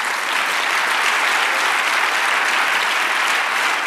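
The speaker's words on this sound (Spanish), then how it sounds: "Dale un aplauso al Señor." Church congregation breaks into loud, sustained applause, a dense, even roar of many hands clapping together that fills the room steadily without pause.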